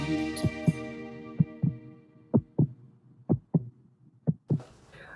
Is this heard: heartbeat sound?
yes